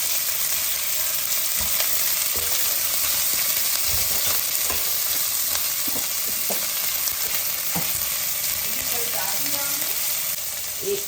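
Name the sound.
onions frying in oil for mutton curry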